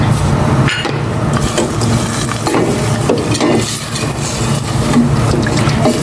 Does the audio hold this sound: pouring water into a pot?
yes